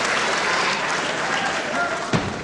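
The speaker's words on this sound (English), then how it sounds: "And applause again from the crowd for that neat escape." Steady crowd applause fills a wrestling hall after a neat escape from a head scissors hold, a dense, continuous wash of clapping at moderate loudness with a brief sharper burst near the end.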